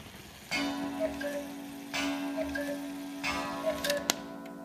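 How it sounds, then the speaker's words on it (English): Antique carved shelf cuckoo clock calling in three evenly spaced bursts of bellows-and-pipe tones, each a sustained two-note hoot with mechanical clicks, close and clear with no talking. "Nice cuckoo sound."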